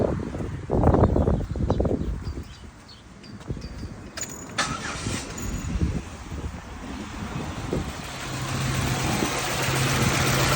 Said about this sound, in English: we're gonna start the car now